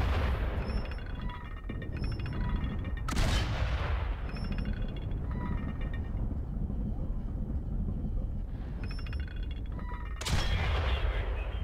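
Cannon and artillery fire in the World War I video game Valiant Hearts: The Great War, with repeated heavy booms over a constant rumbling battlefield din and sharp bursts near the start and end.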